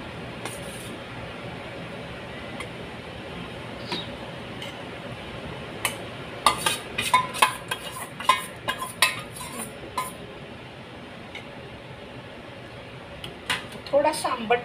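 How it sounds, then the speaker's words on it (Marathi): Dal (varan) is added to a boiling pot and stirred while making dal dhokli, giving quiet clinks and scrapes of a spoon against the pot in several short bursts midway, over a low steady background. "आता त्याला असं उकळी आली आहे तर आपण याच्यामध्ये हे वरण घालणार आहोत."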